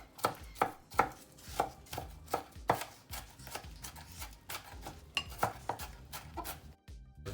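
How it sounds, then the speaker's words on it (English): A knife chopping sausage on a cutting board: a quick, regular series of crisp, close thuds, about a dozen strikes with a brief pause near the end, no talking. "We're going to cut our sausage."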